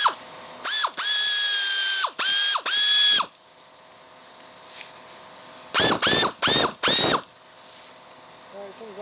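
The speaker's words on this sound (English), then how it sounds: "something's going on the air ratchet" Air ratchet driving a bolt during a spindle and blade repair on a John Deere LA110 42-inch mower deck, running in two clusters of short whirring bursts, three quick pulses then a pause and four more, loud and close.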